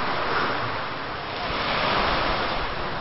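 Sea waves washing onto a beach in Bicol, Philippines, a steady broadband roar of surf with some wind rumble, continuous and fairly close for the whole stretch with no talk.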